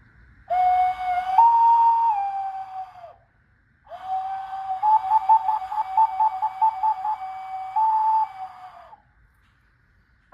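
A shrill whistle imitating birdsong plays two long phrases with a brief pause between, the second warbling rapidly before holding a steady note.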